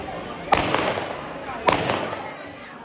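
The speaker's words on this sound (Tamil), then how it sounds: "பிறகு வான வேடிக்கையை கண்டுகளிக்குமாறு அன்புடன் கேட்டுக்கொள்கிறோம்" Two sharp firework bangs roughly a second apart, each followed by a crackling, fading tail, heard from some distance at a Tamil temple fire-walking festival.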